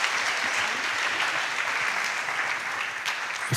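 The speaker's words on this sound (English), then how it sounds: "applause for this wise panel" A steady, full round of applause from an audience at a youth peace conference honoring a panel, dense and even throughout with no talk over it.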